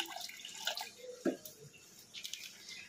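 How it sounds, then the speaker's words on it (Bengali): Rose water and kewra water poured into milk while cooking mutton biryani, a quiet trickle and a few soft drips, close by and faint, with no one talking. "এখানে আমি সব ঢেলে দেবো দুধের মধ্যে একে একে"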